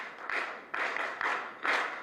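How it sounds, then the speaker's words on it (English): An audience at a corporate banking event claps for its partners in a rhythmic group pattern, a few distinct bursts of clapping spaced roughly half a second apart, fairly soft and distant. "let us first of all clap for all our partners in the NCBA way"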